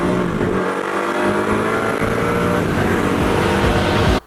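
Koenigsegg Agera R supercar engine roaring loudly and continuously from inside the cabin, a dense, steady rumble holding for about four seconds before cutting off abruptly.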